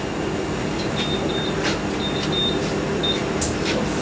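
A Siemens IQ300 washer dryer drum spinning up toward 400 RPM on a cottons cycle, giving a loud, steady rushing hum with faint high whines and squeaks over the top.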